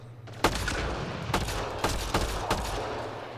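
Gunfire in the video game Mass Effect: several loud, sharp shots at irregular intervals, each ringing with a short reverberant tail over a low steady background hum.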